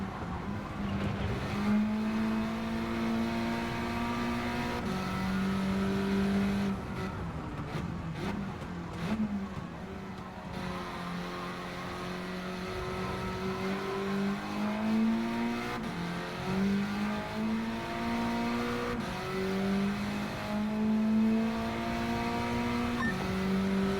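A 496-horsepower car engine in Gran Turismo 7 drones and revs through long sustained pulls, pitch climbing and dropping with gear shifts, loud and continuous with brief tire squeal.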